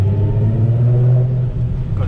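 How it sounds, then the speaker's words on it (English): A Nissan 370Z Nismo engine rumbles loudly inside a garage, a deep steady idle drone echoing close by, while a voice talks faintly over it. "Haven't been in this garage in a long time with the loud car."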